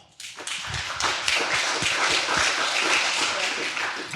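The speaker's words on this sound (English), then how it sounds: "All right. Round of applause." A startup founders' pitch-event audience bursts into steady, dense applause that starts abruptly and holds at full strength for several seconds, close and continuous.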